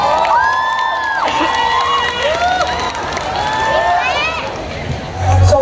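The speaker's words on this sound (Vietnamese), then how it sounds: "Một tràng vỗ tay đầu tiên chào đón nữ ca sĩ Beyoncé" Live drag queen show audience cheering and shouting as a performer is welcomed onstage, a steady roar of crowd voices with whoops and high shouts, loud and sustained, with no spoken words over it.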